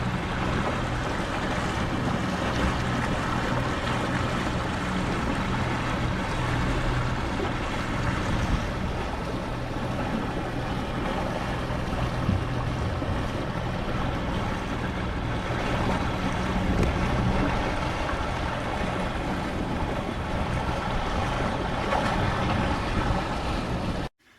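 A houseboat cruising down the Murray River toward its mouth, a steady wash of engine drone, water and wind noise that holds evenly for the whole stretch without talk.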